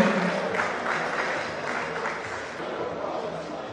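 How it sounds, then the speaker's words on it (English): Applause for a secondary school principal receiving an award at a community awards ceremony, a steady moderate clapping from a crowd with faint background voices throughout. "A round of applause for him."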